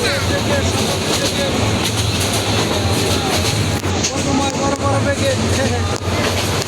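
A moving train rumbles steadily from inside the passenger carriage, a loud, dense roar that never lets up, with voices talking over it.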